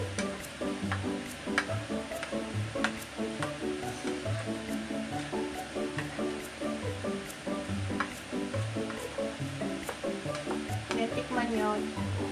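Boiled macaroni frying in a pan for Japanese macaroni gratin, a close, continuous sizzle with rhythmic stirring scrapes throughout.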